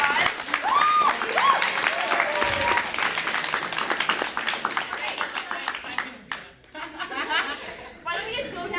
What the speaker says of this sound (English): So we give her an extra round of applause.